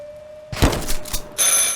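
After a short thump and rustle, a telephone starts ringing indoors, its bright tone cutting in near the end, close and fairly loud.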